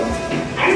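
A dog yips and whimpers briefly, close by, in a short burst mixed with low room noise and a faint voice in the background.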